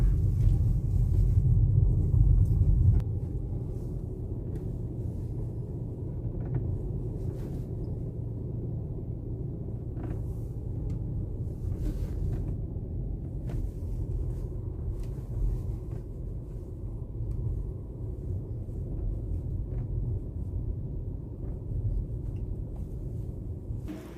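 A car drives slowly down a narrow lane near Electronic City, Bangalore, with a steady low engine rumble and road noise inside the cabin, a heavier thump at the start, then an even drone throughout.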